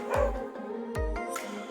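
A dog gives two sharp, loud barks about a second apart, close by, with a whine trailing each one and a brief yelp at the end, during work on a Sniper 150 motorcycle.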